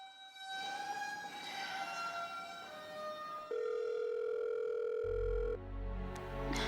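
A telephone call going unanswered: a steady electronic ringing tone with layered harmonics holds for a few seconds, then switches to a lower, flatter tone before cutting out, heard up close with no voices.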